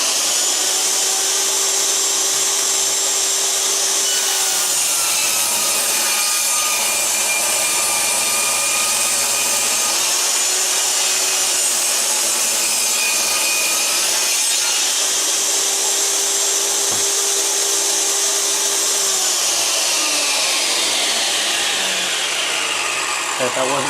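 A power saw cuts through a warped wood board for a shelf in a wood shop, a loud sustained whine with a rising and falling pitch as the blade works through the board, including a heavy knot.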